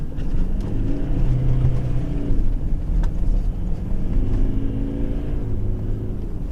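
Engine drone of a 2017 Toyota Hilux 2.4 D-4D diesel pickup driving over open sand, a steady rumbling hum with gentle rises in revs and occasional bumps, heard from inside.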